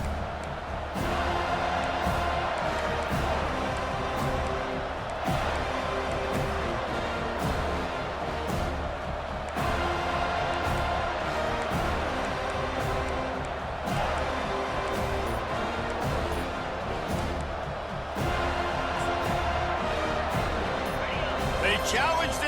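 A packed stadium crowd roars steadily in College Football 25 during a Florida State versus Miami game, a constant loud wash of cheering beneath play-by-play commentary.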